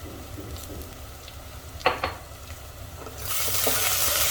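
A low, steady sizzle of onion, garlic, ginger and green chili paste frying in a pan over high flame, with a couple of scraping stirs, growing louder and hissier toward the end.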